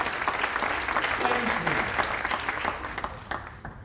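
Audience applause at an all-India poetry gathering (kavi sammelan) in Mumbai, greeting a distinguished poet: dense, steady clapping from a crowd that holds for several seconds and then thins slightly toward the end.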